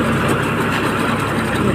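A baler tractor's engine runs in a dusty field, a steady, loud, close diesel drone with no talk.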